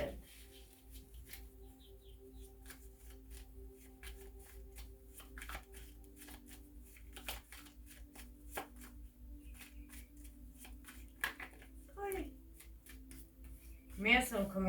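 Tarot cards being shuffled by hand, soft papery riffles and taps coming in scattered bursts beneath quiet background talk.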